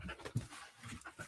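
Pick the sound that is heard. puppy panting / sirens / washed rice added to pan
puppy panting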